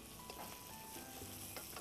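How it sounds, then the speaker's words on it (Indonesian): Garlic, shallots and a coarse paste of dried red chili and bird's eye chili fry in hot oil, giving a steady, even sizzle that stays quiet and constant, with no voices. "Kita goreng sampai matang."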